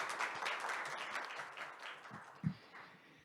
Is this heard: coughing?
no